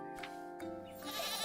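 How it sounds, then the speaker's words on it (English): A goat in a video game bleats once, a short wavering nasal cry that is clear and close. "You know this goat?"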